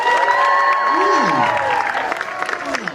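Audience at a burlesque show breaks into loud, dense applause with cheering voices, a steady wash of clapping that carries through and fades slightly near the end.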